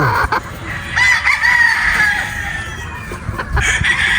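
Young pullets at a gamefowl farm cluck and give short, raspy crowing calls, several overlapping bursts close by, loud over a rustling yard background with no clear speech.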